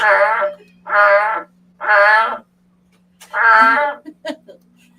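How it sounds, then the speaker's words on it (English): A frog gives four loud, close, drawn-out calls, evenly spaced, each about half a second long, followed by a few short chirps over a faint steady hum. "At first, I was like, what the heck is that? Oh, it's a frog."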